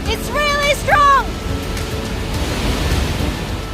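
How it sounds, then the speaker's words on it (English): Pailon del Diablo, a waterfall in Ecuador dropping over 80 meters to the river below, roars as a broad continuous wash of noise, with a voice briefly calling out over it at the start. "Such an impressive waterfall, tumbling down from a great height of over 80 meters high to the river below"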